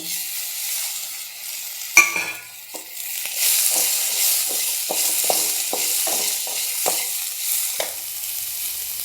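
Tomatoes stir-fried in a pan, starting with a sharp clank as they drop in, then a steady frying sizzle broken by a series of regular scraping strokes from the spatula.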